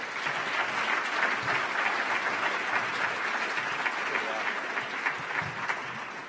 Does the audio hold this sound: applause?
yes